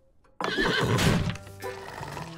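A horse whinnies loudly in a cartoon scene, a sudden close neigh with a rising, wavering cry that trails off into snorting, with no talking over it.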